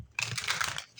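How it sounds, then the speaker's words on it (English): A deck of oracle cards is shuffled close up for a tarot reading, giving a brisk papery riffle and rustle that runs for most of the second with no voices. "One more shuffle."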